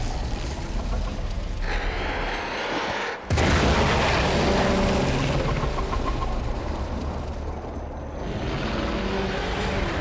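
A loud explosion bursts in a video game, a sudden deep boom cutting through a rumbling, noisy backdrop and followed by sustained crackling roar and debris-like clatter.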